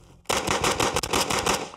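Rapid gunfire from a rifle fitted with a compact muzzle brake, a loud, close burst of fast successive shots starting abruptly and running without pause.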